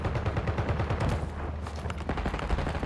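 Automatic weapon firing in Call of Duty: Warzone, a rapid rattling burst of shots with sharp repeated cracks running almost the whole time, loud and close, followed by a few more scattered reports.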